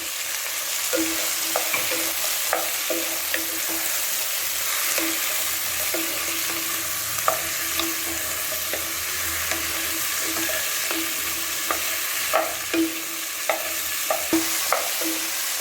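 Tomatoes sizzle steadily in a hot pan while a utensil scrapes and taps against it every second or so, close up, with no talking.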